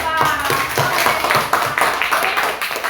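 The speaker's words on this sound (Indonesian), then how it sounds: "tepuk tangan dulu untuk kelompok 4" A classroom of students claps for group 4 after their presentation. The claps are close, loud and somewhat rhythmic, with a few beats standing out, over roughly three seconds.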